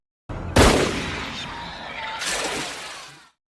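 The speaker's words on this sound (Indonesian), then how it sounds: "Di tengah suasana yang tenang, meletus sebuah suara tembakan." A gunshot from the 1997 film Anaconda, set on a river in the Amazon: a single sharp, loud crack with a noisy tail, followed by a second rough burst of noise and a fading rumble.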